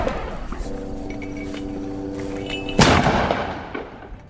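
Heavy mortar shells fired at Israeli soldiers in eastern Zeitoun, Gaza, with one loud sharp blast standing out from a steady low rumble and hum, then fading away.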